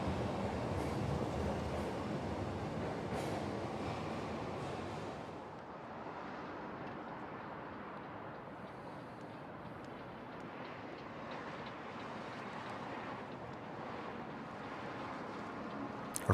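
Steady rumble of a North Korean commuter train in motion, a continuous broadband roar with rattling carriage noise that eases slightly partway through and holds at a constant, fairly loud level, with no talk.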